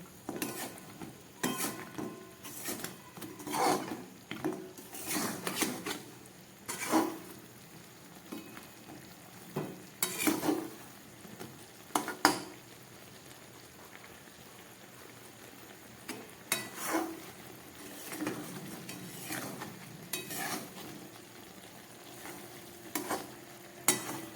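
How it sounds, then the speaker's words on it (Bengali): Sugar is stirred repeatedly in a pan over high gas to dry it for a sweet, making a soft sizzle under recurring bursts of scraping and clattering utensil strokes against the metal, with no speech. "এইভাবে গ্যাসটাকে বাড়িয়ে বারবার নেড়ে চিনিটাকে শুকিয়ে নিতে হবে।"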